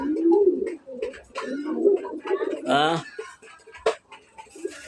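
Domestic pigeons, including white ones, coo while feeding, with soft throaty coos and a few sharp calls close by, mixed with someone talking over them.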